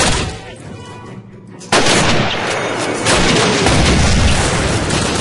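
Loud, continuous gunfire from a Call of Duty video game, with dense rapid shots and booming blasts that jump sharply in level partway through and stay intense, with no talk over it.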